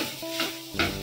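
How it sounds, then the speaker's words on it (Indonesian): Nasi goreng rice with soy sauce sizzling in a hot pan while a spatula turns it, giving two or three scraping strokes over a constant frying hiss, close up with no talking. "Ini nasi kita kena goreng kita kacau, guys."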